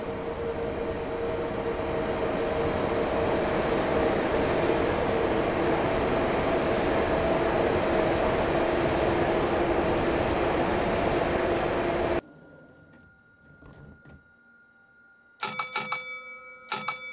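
A Class 465 electric multiple unit in Train Simulator 2016, on the Orpington to London Victoria route: a loud, steady rumble with a droning motor hum for about twelve seconds, then a sudden drop to near quiet broken by brief clatters.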